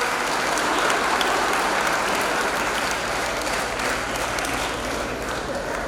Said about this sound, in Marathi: आणि कुठेतरी टाळ्या वाजवा